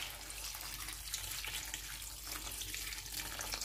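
Water streams into a pot of patola soup with chicken and shrimp, a soft continuous splashing pour heard faintly and evenly throughout, with no talking.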